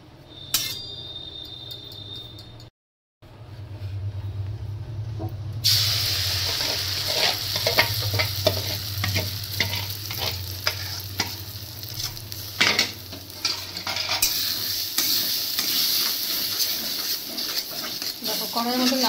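Mustard oil is stirred in a hot kadai for a vegetarian chhanar dhoka dalna, giving a steady close sizzle with scraping and clinking. A brief silent gap comes early, then the frying grows fuller and louder.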